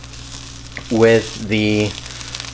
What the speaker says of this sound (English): I'm going to add in some green onions here, and it's going to start sizzling